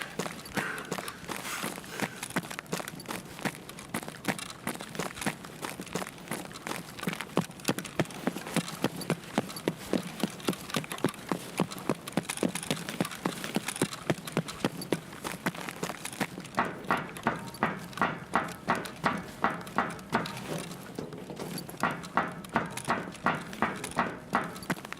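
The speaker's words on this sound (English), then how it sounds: "I heard another footstep." Footsteps in the shooter game Escape from Tarkov on the Streets of Tarkov map, a long, steady run of rhythmic clopping steps that stays loud and even throughout.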